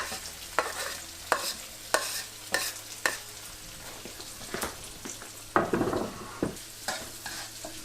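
Garlic and onions sizzle and fry in a wok on an electric stove, with repeated scraping stirs at a steady rhythm over a constant frying hiss, close and moderately loud.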